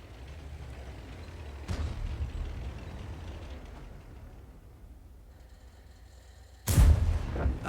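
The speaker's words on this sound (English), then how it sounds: "A 13-centimeter shell just clobbered the Striv" A 13 cm tank shell slams into a Striv S1 tank in World of Tanks, a single loud, close boom arriving after a long stretch of low rumbling battle noise and an earlier softer thud.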